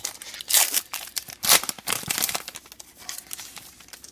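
A foil pack of Topps Star Wars trading cards is torn open close by: loud crinkling and ripping bursts, then lighter rustling of the wrapper, with no speech.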